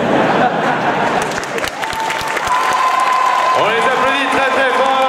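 Audience applause for a Legend of Zelda cosplay group at a Japan Expo cosplay contest, a dense steady wash of clapping with some cheering, while voices ring out over it through the latter half.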